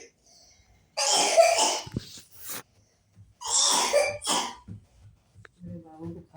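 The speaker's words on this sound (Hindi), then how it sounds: "मेरे बाबू को खांसी आ रही है इसी में।" Two loud, breathy coughing bursts from a small child ring out close by in a kitchen, a pause between them, followed by a few quieter sounds.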